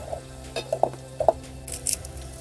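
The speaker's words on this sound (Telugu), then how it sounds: "ఫ్రెండ్స్ ఇప్పుడు తాలింపు అయితే ఉడికిపోతుంది." Tempering (talimpu) sizzles in a pan while being cooked for a dried meat curry. There is steady, soft frying with light stirring and occasional utensil clinks, and no talk.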